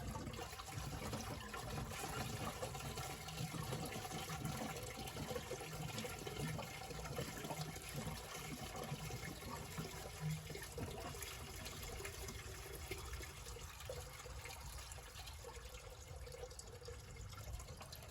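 Coolant gushes steadily out of a 1999-2001 Ford Ranger's radiator and into a trough during a radiator replacement, a continuous rushing pour of liquid that holds at an even level for the whole stretch, with no talk over it.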